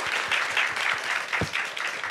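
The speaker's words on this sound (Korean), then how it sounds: "축하의 박수 한번 부탁드립니다" A crowd at an awards ceremony applauds steadily, a sustained wash of many hands clapping at moderate loudness for a couple of seconds.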